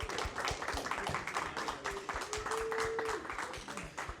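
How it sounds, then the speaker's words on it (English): Crowd clapping at an esports LAN event for a VALORANT league, a scattered burst of applause with sharp individual claps filling the hall for a few seconds. "Everybody, big round of applause because Niner Esports absolutely deserves it for their history in the SEL."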